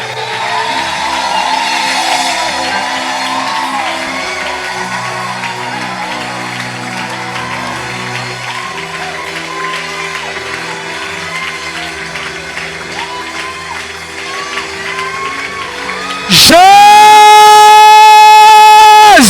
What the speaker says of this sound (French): Est-ce qu'on peut ajouter des cris de joie?